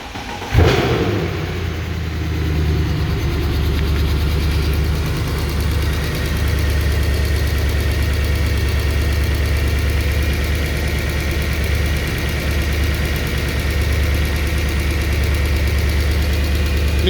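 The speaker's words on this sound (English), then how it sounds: "today it's the time now to start the engine" A 2013 Mercedes C63 engine with 205,000 km cranks and catches with a sharp burst, then settles into a steady, loud idle that rumbles on without talk.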